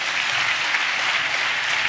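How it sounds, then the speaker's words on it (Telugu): A sermon audience clapping loudly and continuously, a dense, even wash of applause without pauses. "చప్పట్లు కొట్టండి గట్టిగా."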